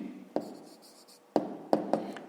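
A pen writes answers on paper for a fifth-grade maths exercise, scratching in a soft steady stroke that is broken by four sharp taps of the pen on the page, close and quiet.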